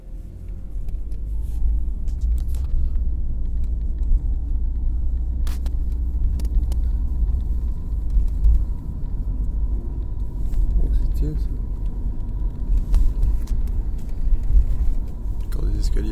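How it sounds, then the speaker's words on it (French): Steady low traffic rumble from small boxy cars moving along a Japanese street, a continuous close drone with a few brief higher clatters over it. "Ici, les petites voitures, les voitures carrées."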